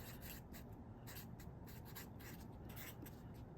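Quick scratchy strokes come from writing on a board during a university chemistry lecture, a faint, close run of short rubbing marks in uneven bursts, with no voice over them.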